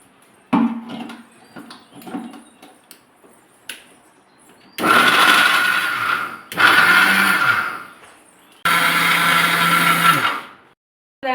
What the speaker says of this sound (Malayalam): ഇനി നമുക്ക് അടച്ച് മിക്സിയിലോട്ട് ഒന്ന് അടി അടിക്കാം